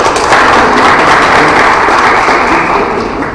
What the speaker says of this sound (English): Can we all with a warm round of applause?